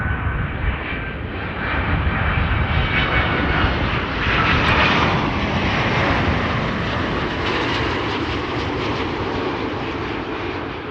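A fixed-wing airliner flies near Amsterdam Schiphol Airport on a downwind leg for approach, its engines giving a steady, loud broadband roar that swells slightly around the middle and holds throughout, with no talk.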